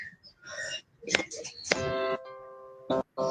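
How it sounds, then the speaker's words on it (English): Voices talk briefly, then a doorbell chimes with a ringing, sustained tone, followed by another short ding. "Knock on the doorbell. Ring doorbell."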